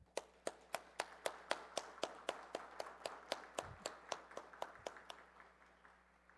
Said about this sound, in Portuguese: aqui recebam o nosso aplauso como uma forma de gratidão.